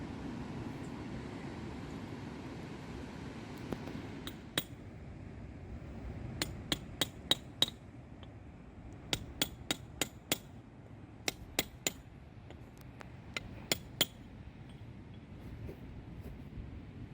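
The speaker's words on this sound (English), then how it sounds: "It is hard work, especially since you're doing all the chiseling." Chiseling heard as faint, scattered sharp metallic taps, sometimes in quick runs of three to five strikes, over a steady low rumbling background; distant and quiet, no voices.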